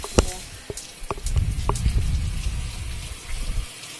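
Tap water runs and gushes into a kitchen sink while raw chicken is washed by hand. The close, steady splashing is broken by a few sharp clinks and knocks.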